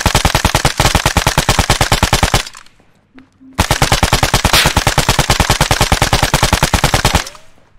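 Rapid automatic gunfire from Arma 3 on the Stratis map, loud and close, firing in two long sustained bursts separated by a brief pause.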